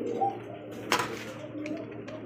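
A single green-coloured pigeon coos softly amid a busy pigeon loft, with other birds calling faintly and a brief rustle of wings or handling near the middle.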